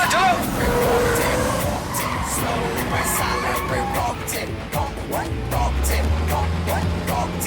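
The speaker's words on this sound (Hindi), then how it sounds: "चलो गाड़ी आ रही है" In a film action scene, a car approaches with a rising engine and skidding tires under a busy mix of voices and effects, ending in a loud low rumble.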